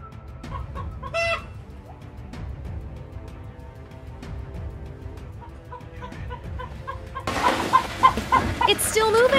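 Chickens cluck and crow in a coop with a python inside, scattered near calls over a low rumble that swell into a louder, busier burst of squawking near the end.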